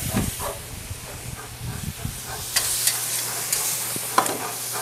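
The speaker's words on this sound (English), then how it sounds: "we're gonna throw these steaks on and get a nice sear. Hear that going." Steady close sizzling and hissing of steaks searing on a hot grill, with a few crackles and pops over the continuous spitting sound.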